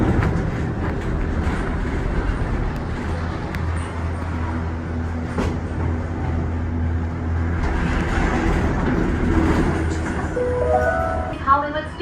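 Disney Skyliner gondola cabin riding the Hollywood Studios line toward Caribbean Beach Resort at Walt Disney World, a continuous low rumbling hum with faint rattles and creaks, steady and close, with a brief announcement-like tone near the end.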